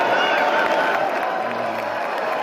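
A convention crowd applauding and cheering for Peter Navarro, a dense continuous roar of clapping with raised voices and whoops mixed in, loud and steady.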